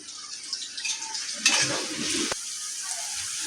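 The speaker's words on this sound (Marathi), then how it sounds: "आता याला लाल करूयात" Onion frying in a pan gives a soft, steady sizzle that swells into a louder burst of crackling midway, then settles back to a gentle hiss, with no voices.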